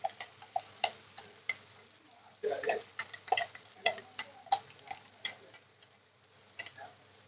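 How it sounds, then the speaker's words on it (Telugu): Onion paste fries in hot oil, sizzling and spitting with sharp crackling pops, settling into a quieter sizzle toward the end, close by with no voices. "ఆయిల్ వేడయ్యాక ఉల్లిముద్ద ఇలా వేసిస్తాయి"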